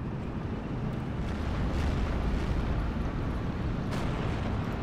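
Steel Division 2 artillery pieces booming in a WW2 real-time strategy battle, a dense continuous rumble of distant shelling with a few sharper impacts standing out.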